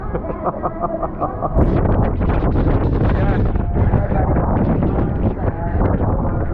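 Strong hurricane wind buffets the microphone in heavy, roaring gusts high up on the Aqua Mouse water ride aboard the Disney Wish cruise ship, loud and constant after a brief quieter opening.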